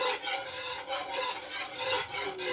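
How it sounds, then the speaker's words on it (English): A whisk beats a butter sauce in a pan, a close, brisk scraping in quick rhythmic strokes with no voices. "Get this whisked in."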